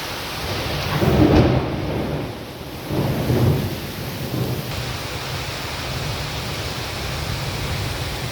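Thunder rumbles over steady heavy rain during a storm with gusty wind in Bodhan, two deep rolls in the first half fading into a constant wash of rainfall, no voices.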